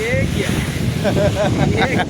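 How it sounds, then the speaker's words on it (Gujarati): Strong wind buffets the microphone over the wash of sea waves on the shore at Dwarka, while voices talk briefly over the noise. "દરિયાકાંઠે ઊભા છીએ ફૂલ પવન આવે છે પવનમાં મોજા પણ આવે છે"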